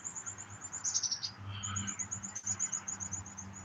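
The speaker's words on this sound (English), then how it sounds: "That's a big bird." A bird calls outdoors with high, rapid chirping trills, a steady repeating series of notes over a faint insect hum and low rumble, with no voices.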